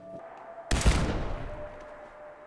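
A single loud cannon blast in Fallout 4 bursts out sharply, then rolls into a long, fading rumble and crackle.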